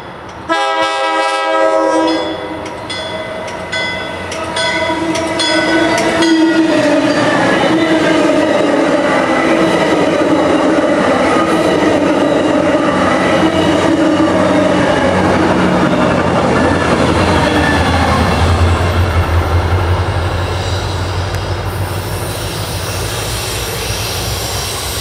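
A locomotive, P849, reverses along a CSX line, loud and close, opening with a long horn blast followed by a steady heavy engine drone and rumbling wagons that continue for over twenty seconds.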